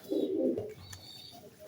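A sick Teddy pigeon gives a soft, low cooing call up close, a brief throaty burst followed by quiet.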